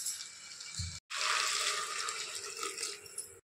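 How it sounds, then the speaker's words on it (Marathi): Water is poured into a pan of spiced, sautéed vegetables, a steady hissing splash close by, with a brief pause midway and no talk. "आता याच्यामध्ये आपण पाणी घालून घेऊया."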